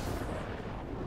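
Blasting Cannons card effect firing in a Magic: The Gathering digital match: a dense, rumbling burst of explosive noise that stays loud and steady for about a second, like artillery, with no speech.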